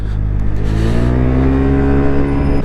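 A Lexmoto Nexus 125cc scooter accelerates hard uphill, its engine droning loud and close with a steadily rising pitch and constant wind rush throughout.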